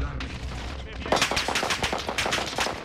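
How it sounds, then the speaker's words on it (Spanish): A new tactical rifle in Warzone firing rapid bursts of shots, each crack sharp and close, in a quick irregular rhythm over low background game noise. "Un nuevo rifle táctico"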